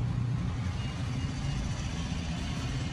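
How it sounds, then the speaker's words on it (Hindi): A car engine held steady at roughly 2000 RPM, a continuous low rumbling drone that stays even and fairly close throughout, with no voices. "गाड़ी को स्टार्ट करके सुनिए"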